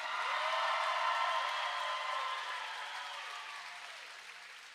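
A junior roller derby crowd applauds at a doubleheader bout. The clapping is loud and dense at first, then fades gradually over several seconds, with no voices standing out.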